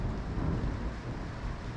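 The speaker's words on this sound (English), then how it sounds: "We're getting the storms!" Thunderstorm rumbling outside, a steady low roar of thunder and rain that stays dense and even throughout, with no talking.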